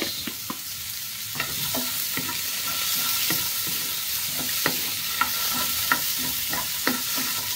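Potatoes and carrots frying with corned beef and onion in a pan with very little oil over high heat, a steady close sizzle broken by repeated scraping and stirring clicks of a utensil, no voices.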